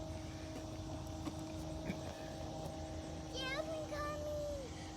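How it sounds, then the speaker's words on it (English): A steady low engine drone of an airplane passing overhead, fairly faint, with birds chirping briefly near the end. "I do not see an airplane, but I hear one."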